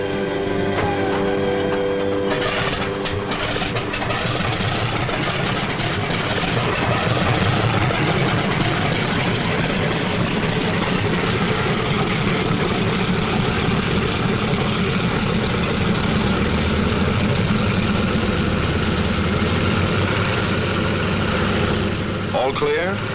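WWII fighter aircraft engines roar steadily through a takeoff, a loud, continuous low-pitched drone of propeller engines that holds for over twenty seconds with only slight swells.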